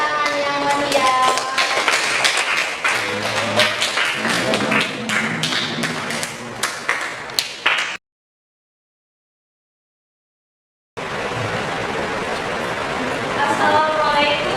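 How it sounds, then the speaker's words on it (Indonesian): Classroom audience applauding presenters after a group presentation, a dense burst of claps and hand taps with voices mixed in, then a pause of silence before steady clapping resumes. "kita beri tepuk tangan yang meriah"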